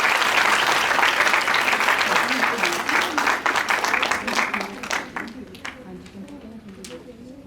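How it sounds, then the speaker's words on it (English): Conference audience applauding session speakers at a sustainable development plenary, loud dense clapping that thins out over the last few seconds into scattered claps. "Please give a big round of applause to our session speakers."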